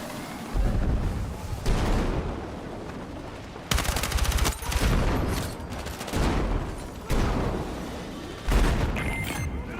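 Battlefield 6 combat: loud, close bursts of gunfire and booming blasts from a grenade explosion arrive in several distinct volleys separated by brief drops in level, with rapid automatic fire crackling through the mix.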